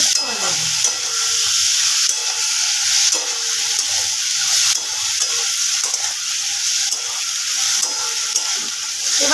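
Drumstick flowers stirred with poppy seed paste in a pan for Bengali posto, a loud, close, continuous sizzle and frying hiss with repeated scraping stirs and no talk.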